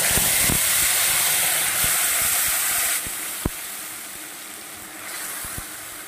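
Ground spice paste fries in a pan for an egg and potato curry, giving a loud steady hiss that eases partway through, punctuated by sharp spoon knocks against the pan.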